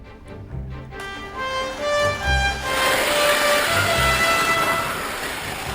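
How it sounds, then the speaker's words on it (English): A model train sets off along its track: a horn-like tonal call first, then a steady rolling rush and rumble that builds and holds, with no voices. "And there goes the train to me in my office."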